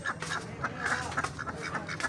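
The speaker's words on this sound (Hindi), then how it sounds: "ये बतखें हैं जी नीचे।" Ducks quacking at a farm in Wazirabad, a run of repeated, fairly close quacks in an irregular rhythm over a steady background murmur.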